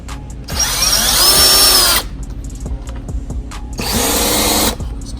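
An electric drill whirs loudly in two bursts, spinning up and winding down, with a short pause of quieter background noise between them.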